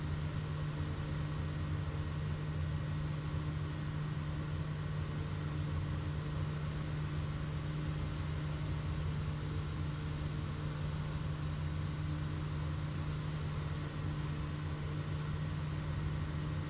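Steady propeller drone of a Kodiak 100 single-engine turboprop in Microsoft Flight Simulator 2024 on final approach, a continuous even hum with a strong low tone that holds unchanged throughout, no talk.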